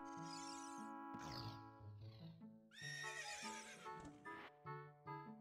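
Horses neigh and whinny repeatedly in Ocarina of Time, loud, close, overlapping calls with clip-clop hooves and a steady game-music drone underneath.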